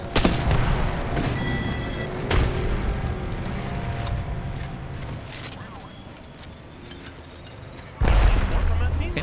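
Grenade blasts and gunfire in the battle royale game Apex Legends, a few sharp booms and cracks spread across the moment, with a heavy burst near the end, under steady talking from players.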